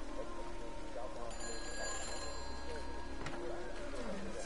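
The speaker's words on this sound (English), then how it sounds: "I hear the phone over here." An old telephone rings in the video game Everybody's Gone to the Rapture, faint bell tones with a brief ringing burst over quiet ambient background and a soft low hum.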